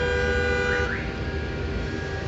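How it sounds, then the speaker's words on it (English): Traffic roar with car horns: a dense, steady rumble of vehicles under a sustained horn tone that briefly rises in pitch midway. "And roar of traffic."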